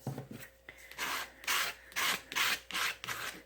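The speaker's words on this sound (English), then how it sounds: "I'm going to use a card to scrape these colors on" Acrylic paint dragged across a surface with a card in a mixed-media piece, a series of about five rasping scrapes, each roughly half a second long, close and fairly loud, alone without talk.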